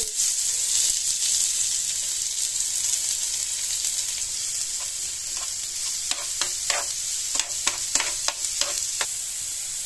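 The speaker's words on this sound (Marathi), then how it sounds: "त्यामध्ये बारीक कापलेला कांदा घालू." Finely chopped onion dropped into hot oil with mustard and cumin seeds, giving a steady close sizzle with a quick run of sharp crackles and spoon taps toward the end.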